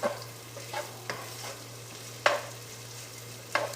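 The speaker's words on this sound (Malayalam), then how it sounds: "സവാള നമുക്ക് വഴറ്റി കൊടുക്കാം" Onions sautéed with a spatula in a pan, several separate stirring scrapes spaced a second or so apart over a faint low sizzle and a steady hum, close and fairly quiet.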